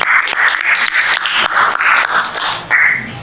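A classroom group of teachers and participants claps together in unison, loud and close, with sharp rhythmic bursts repeating about twice a second.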